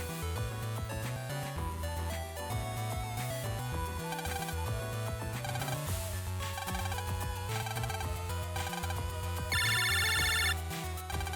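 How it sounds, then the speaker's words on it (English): Phone call ringtone from the Mega Man Battle Network 5 video game, ringing steadily for the whole stretch alongside dense game music, with a brighter repeating chime near the end. "That's a phone call."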